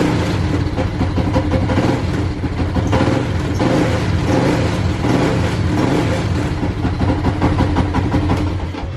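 A Rusi 100 motorcycle engine idles after its carburetor is cleaned, a steady, slightly uneven close-up putter and rumble that holds throughout without any talking.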